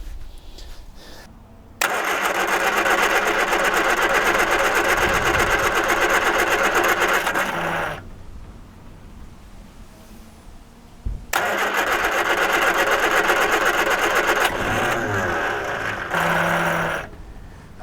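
A long-neglected 1978 Triumph Spitfire engine cranks over in two loud, sustained bursts of roughly six and three seconds, with a quiet pause between them and a few uneven firing hints near the end as it nearly catches.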